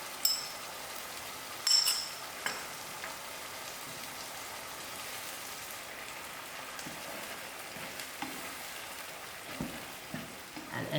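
A tomato, onion and egg chutney sizzles steadily in a pan. A soft, continuous crackle and frying hiss run throughout, with a few louder spits and stirring clatters.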